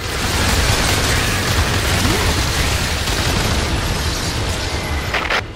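Hooligan cannon blast destroying a teleportation ship in the video game Earth Defense Force 5, a loud sustained roaring explosion with dense crackling rumble that fades slightly near the end.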